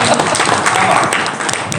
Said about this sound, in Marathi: वाजवा टाळी